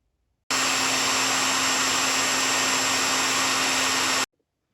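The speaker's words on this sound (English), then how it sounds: "I had to take my hairdryer to it" A hair dryer blows in one steady, loud whoosh for a few seconds, drying a watercolor painting, switching on and off abruptly with silence around it.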